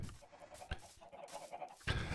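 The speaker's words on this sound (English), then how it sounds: "Let me eat some chicken and then throw some eggs at some chickens." Minecraft chickens cluck in a steady series of short, repeated calls, close and clear, with a few sharper clicks and a burst of noise near the end and no voices.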